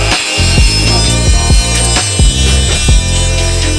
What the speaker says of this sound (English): some of the spokes actually protrude through the wheel, so you gotta grind them down flat